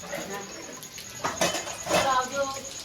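Dishes, pots and cutlery clink and scrape as they are washed in a home kitchen, a few sharp clatters rising over steady running-water hiss, with rain outside and people talking nearby.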